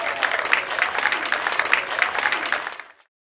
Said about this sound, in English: you give them a cheer!